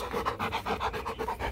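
A Rottweiler pants hard and wet after playing ball, with quick rhythmic breaths close up and steady throughout, no talking.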